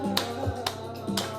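Three sharp, single hand claps come at an even, slow pace during a breathwork session. They ring out clearly over a soft, sustained musical tone in the background.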